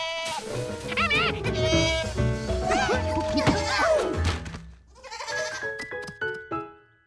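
Several goats bleat loudly and overlap in wavering cries, followed by a few knocks and thumps, close by with no clear speech.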